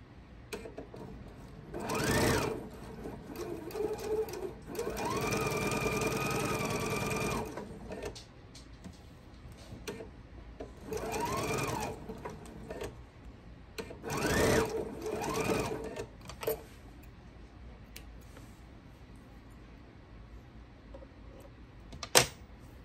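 Sewing machine stitching a scant quarter-inch seam on a quilt block, running in several short bursts and one longer steady run, with quiet handling sounds between stitching runs.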